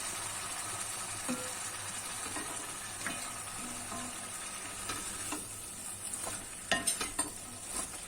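Artichoke stems sauté in a hot pan with a constant close sizzle, while a utensil stirs and scrapes through them in scattered clicks that grow busier toward the end.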